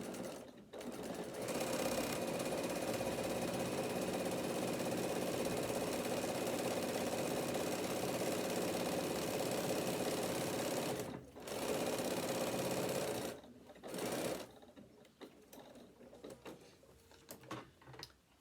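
Sewing machine stitching a bag lining around curves, a close, steady whirring run for roughly eleven seconds, then short pauses and restarts as the fabric is turned, ending in slower stop-and-go bursts.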